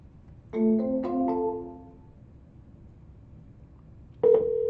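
Telephone tones from a call placed through a smartphone dialer app: a short burst of layered ringing tones early on, then quiet, then another steady tone starting near the end, with no talking.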